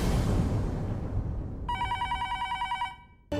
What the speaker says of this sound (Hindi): फिर से फोन?